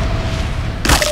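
A short, loud explosion in Team Fortress 2 bursts suddenly near the end, over a dense, noisy game background.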